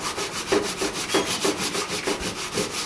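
Plastic body filler is sanded by hand on a Fiat Spider, a loud, close, rhythmic rasp with regular back-and-forth strokes, about three per second, no voices.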